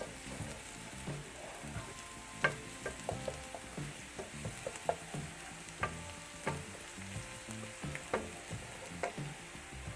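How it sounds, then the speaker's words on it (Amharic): Chopped onion and garlic sizzle in oil in a pan, with a continuous crackling fry and frequent clattering stirs and spoon taps throughout; nothing spoken. "ሽንኩርታችን እንደዚህ ቆንጆ ነው ተጠብሷል። በመቀጠል ነጭ ሽንኩርት እናደርጋለን።"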